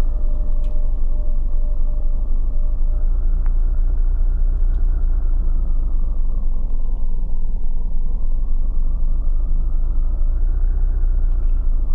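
Steady low engine rumble from a car being driven in the video game Mimic Search, droning evenly and loudly throughout with slight swells, no talking over it.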